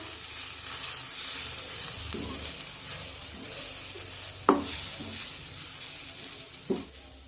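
Coriander leaf bhaji with gram flour frying in a kadhai, a steady soft sizzle with a couple of sharp scrape-and-clink stirring strokes, close and without talk.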